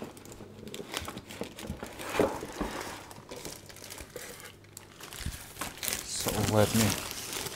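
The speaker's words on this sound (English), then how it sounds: "remove this plastic bag, let's put it here" A plastic bag being pulled off a FiiO K9 AKM DAC and amplifier while unboxing, crinkling and rustling up close in bursts, with a person speaking throughout.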